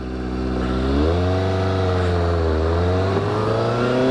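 Suzuki GSX-S750 motorcycle engine revving while out on a ride, a loud, steady droning note that climbs and dips in pitch, heard close and alone with no talk.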